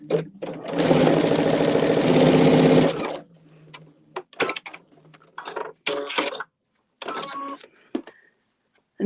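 A sewing machine stitches a strip of quilt fabric in one loud, close burst of about two seconds, followed by sporadic clicks, handling noises and brief sounds of movement at the machine.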